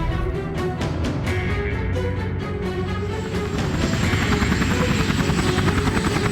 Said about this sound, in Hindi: तभी हेलीकॉप्टर नीचे उतरा।